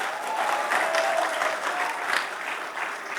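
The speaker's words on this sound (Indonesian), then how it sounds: "Kasih tepuk tangan yang meriah buat Tuhan." Worshippers at a church service clapping enthusiastically, a sustained, full burst of applause that stays level throughout, with no speech over it.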